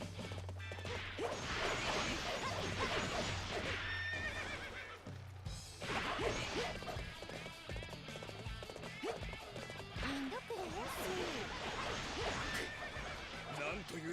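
Horse neighs and galloping hooves in the Warriors Orochi 3 Ultimate video game, whinnies over clip-clop, music and battle effects, with someone talking throughout.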